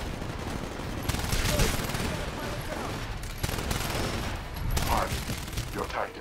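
Rapid SMG bursts and scattered gunfire in the sci-fi shooter Titanfall rattle through a dense battle mix, with a voice speaking over parts of the fighting.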